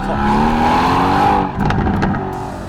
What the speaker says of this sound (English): listen to that V8 burble, and when you come off the accelerator after giving it an absolute bootful